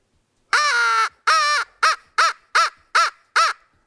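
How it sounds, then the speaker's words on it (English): A crow call blown by a turkey hunter, one long caw followed by six shorter, evenly spaced caws, clear, close and moderately loud with nothing else around it. "most guys for crow calls, they want to locate birds and we want to reach as far as we can"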